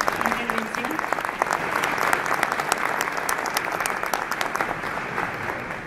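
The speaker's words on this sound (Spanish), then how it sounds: "le damos un aplauso a Julián por su intervención" Steady, dense applause from a conference audience at a logistics congress, many hands clapping continuously at moderate loudness for several seconds and tapering slightly at the end.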